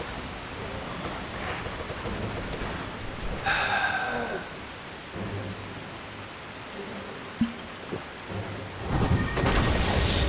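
Steady rain pours in the video game Skyrim while a long roll of thunder rumbles through mid-storm, with a few sharp knocks and a louder swell near the end, no talking.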